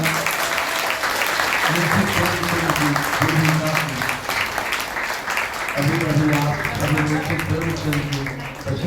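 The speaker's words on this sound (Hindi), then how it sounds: "जोरदार तालियां।" Loud audience applause after a stage play at a college event, broad clapping running throughout while voices and tonal sounds rise and fall beneath it.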